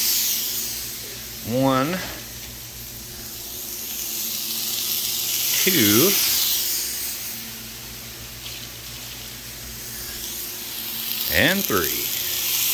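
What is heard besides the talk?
NY strip steaks searing on a Blackstone griddle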